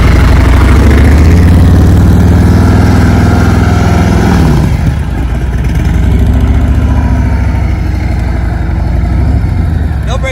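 Heavy motorcycle engine turning over at low revs during slow, tight turns, a loud close rumble that dips briefly as the throttle changes, with no voices over it.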